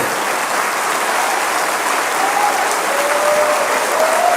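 Loud, sustained applause from a church congregation, a dense and even roar of clapping hands with no talk over it.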